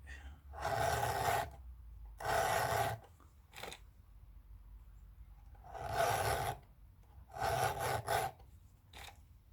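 Hand file sharpening a chainsaw chain: rhythmic rasping strokes, each about a second long, scraping metal on metal up close, separated by short pauses and light clicks, repeated five times.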